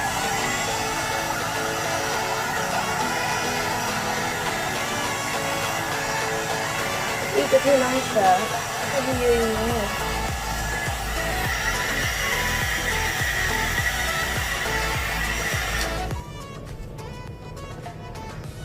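A 2-in-1 step hair dryer and styler runs on its high setting with a loud, continuous whooshing roar close by, while someone speaks briefly over it, until the noise drops away near the end.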